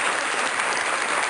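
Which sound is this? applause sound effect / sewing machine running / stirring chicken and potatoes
applause sound effect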